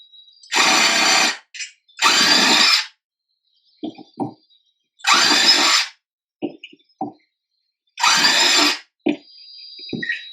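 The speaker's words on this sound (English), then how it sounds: "now we're going to go ahead and drill our holes" A power drill whirs loudly in three short bursts of about a second each, drilling holes in a kayak hull to mount an accessory rail, with soft clicks and knocks in the pauses between.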